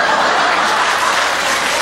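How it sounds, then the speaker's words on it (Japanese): An audience applauding during a live Japanese comedy sketch about a marathon, dense steady clapping that fills the space at close range for a couple of seconds, with some light laughter mixed in. "なんで拍手すんの"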